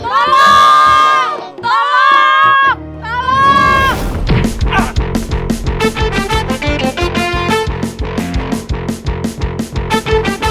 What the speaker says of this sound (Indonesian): Coba teriak lagi.